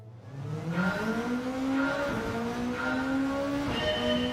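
Car tires squeal steadily through a controlled slide into a corner in Gran Turismo 7, with the engine droning beneath and the pitch stepping up in a few gear-like shifts; no one speaks.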